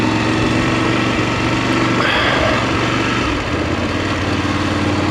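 A DSX 900 motorcycle engine runs steadily on a short ride over a bumpy road, a loud continuous drone mixed with wind and road rumble throughout, with no voices.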